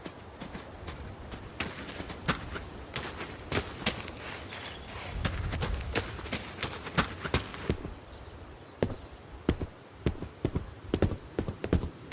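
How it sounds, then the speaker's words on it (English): A horse walks out to pasture, its hooves clip-clopping in a steady, uneven rhythm at moderate distance over a quiet outdoor background. "Why don't you walk on out to pasture, rest a spell?"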